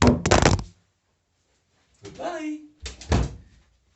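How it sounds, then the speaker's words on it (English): A door is shut with a couple of quick knocking thuds, heard close and loud after a brief spoken farewell, with a pause of silence between the sounds. "let me shut the door."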